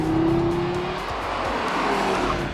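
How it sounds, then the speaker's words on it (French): Audi TT RS (2016) with its inline five-cylinder engine accelerating hard, a loud sustained engine roar with rising pitch that stays close throughout, without speech. "les mises en vitesse que peut réaliser ce 5 cylindres en ligne, c'est juste impressionnant"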